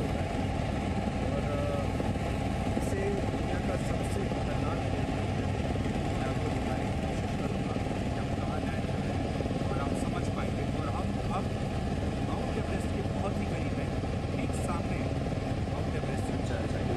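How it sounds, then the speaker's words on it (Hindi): Steady, loud helicopter engine and rotor drone heard from inside the cabin, a continuous dense roar with no breaks throughout. "हेलीकॉप्टर है ना मैं जहाज समझ रहा था लैंडिंग करने में"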